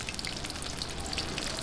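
Chilli cheese lumpia frying in hot oil, a steady bright crackling sizzle with scattered tiny pops, close and continuous with no talking.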